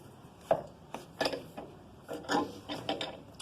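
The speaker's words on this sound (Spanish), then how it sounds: "cuando estuve tallando, como pueden ver, no saltó madera, lo he hecho rapidito, y lo tomé a contraveta" A wooden nose carved by hand with a blade, in a series of short, dry scraping cuts and rasps, some stronger than others, close and fairly quiet.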